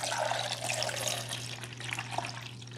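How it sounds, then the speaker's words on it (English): Water poured from a glass carafe into the reservoir of a Mr Coffee 5-cup Mini Brew Switch coffee maker, a steady close splashing flow that runs for the whole moment with no talk over it. "We're gonna simply dump the water right back here where the water goes."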